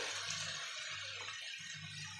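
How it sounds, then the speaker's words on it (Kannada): Water is poured into a pan of potato curry (batata palya) on the stove, a faint brief splashing trickle lasting a couple of seconds. "ಸ್ವಲ್ಪ ಹೊತ್ತು ಇದನ್ನು ಒಂದು ಸ್ವಲ್ಪ ನೀರು ಬಿಟ್ಟು"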